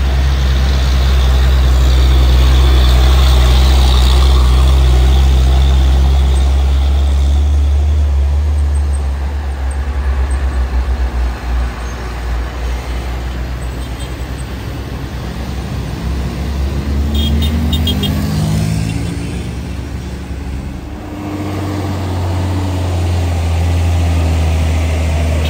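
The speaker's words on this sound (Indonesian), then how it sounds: "dam truknya ngegas terus" A heavy dump truck engine roars and revs steadily nearby, with low rumbling and rising pitch changes, joined by other traffic noise.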